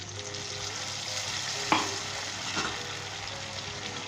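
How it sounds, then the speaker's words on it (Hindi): Water poured into a pan of sizzling tomato boondi masala, a steady frying hiss with a brief splash and crackle burst, then another smaller burst as the sizzle continues. "अब हम इसके अंदर 200 मिलीलीटर के करीब जो है इसके अंदर पानी शामिल करेंगे"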